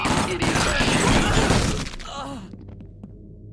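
Dense bursts of gunfire rattle for nearly two seconds in a SWAT 4 match, mixed with crashes and a radio-style voice, then the firing stops and quieter game sounds trail off.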